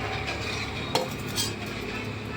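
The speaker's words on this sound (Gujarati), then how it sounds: "પહેલાં બધું હલાવી નાખશું, પછી પાછા જરૂર પડે તો પાછી નાખશું છાશ" A spoon stirs sour buttermilk into peanut and potato khichdi in a pot, giving a soft, steady wet churn close by with one brief clink of metal.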